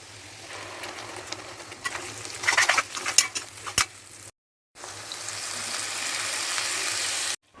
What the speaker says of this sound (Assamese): এতিয়া আপোনাৰ পিঁয়াজখিনি ৰঙা হৈ ভজালৈকে ভাজিব দিম।